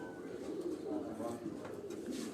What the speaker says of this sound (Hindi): ਆ ਮਿਸੇ ਕਬੂਤਰ ਨੇ ਜੀ, ਮਿਸੇ ਕਬੂਤਰਾਂ ਦਾ ਤੁਹਾਨੂੰ ਸ਼ੋਅ ਕਰਾ ਰਹੇ ਹਾਂ ਜੀ